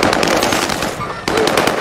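Rapid, loud automatic gunfire rattles continuously in a shooter video game, close and dense, with people talking under the shots.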